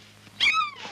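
A small young cat gives a single clear, rising-then-falling meow up close, short and fairly loud, with no talk over it.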